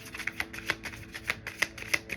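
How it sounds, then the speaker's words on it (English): Tarot cards are shuffled in quick, crisp riffles, a steady run of sharp papery slaps and flutters close up with no talking. "Last shuffle, anything else?"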